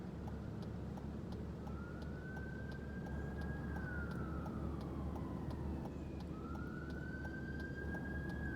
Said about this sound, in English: That's the sound of a siren.